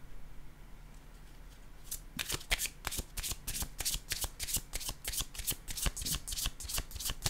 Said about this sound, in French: Je vais choisir une autre carte pour ici.